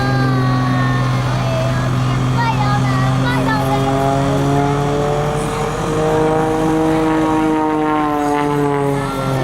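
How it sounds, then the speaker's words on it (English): A propeller airplane skids around overhead at the Robins Air Force Base Thunder over Georgia air show, its engine drone loud and continuous with shifting pitch while an announcer talks over it. "Skid the airplane around for us."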